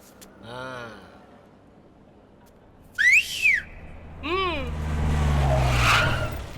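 A man in a courtroom gives several sharp whistles, a rising-falling wolf-whistle followed by short bright bursts, loud and close, with no talk over them.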